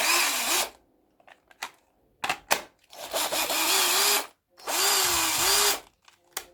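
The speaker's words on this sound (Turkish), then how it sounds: "gayet güzel bir şekilde matkabımız çalışıyor" A Bosch PSR 960 cordless drill, converted from Ni-Cd to lithium battery, whirs in three short bursts of rising and falling motor pitch, close up, separated by pauses with small clicks and handling sounds.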